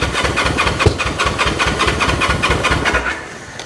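A 1974 Honda CL450 motorcycle, revived after sitting 25 years, cranks over on its starter and catches, its engine running with a steady loud rapid pulsing throughout, close up.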